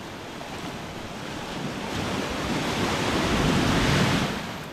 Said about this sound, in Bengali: দেখুন বেশ উত্তাল সমুদ্র।